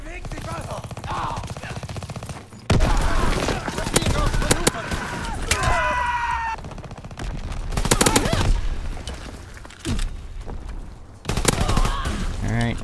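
Rapid bursts of machine pistol fire from the Holzpistole II in Call of Duty WW2 multiplayer, loud and repeated in several clusters, with a voice talking between and over the shots.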